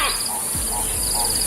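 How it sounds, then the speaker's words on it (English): A gray go-away bird gives a few hoarse, cawing calls in quick succession over a steady background hiss of insects. "What makes the gray go-away bird unique is its weird call."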